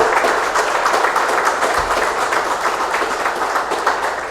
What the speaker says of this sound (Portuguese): Por isso eu peço uma salva de palmas para o Carlinhos